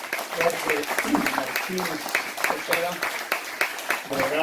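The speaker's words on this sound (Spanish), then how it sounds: "Un aplauso, maestro" An audience applauds at a Mexican cultural event while someone speaks over the steady clapping.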